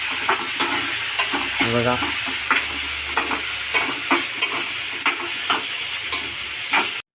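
Onion frying in oil in a kadhai for matar paneer: a steady close sizzle broken by regular scraping stir strokes roughly every half second, with a brief word spoken partway through.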